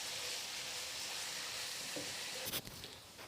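Chopped onion frying in a pan, a steady, close sizzle with hiss and a brief stir clatter near the end, no voices.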